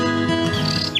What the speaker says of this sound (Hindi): यहाँ के हरे भरे नज़ारे और पुरसकून माहौल में परिंदों की चहचहाहट दिल को मोह लेती है।